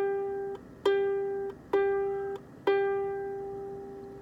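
A single plucked ukulele note struck four times in a slow, even rhythm, each pluck ringing clearly and decaying before the next, played close and alone.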